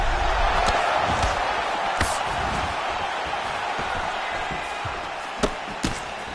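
A fighting video game's crowd roars steadily throughout, with a few sharp thuds and impacts standing out near the end.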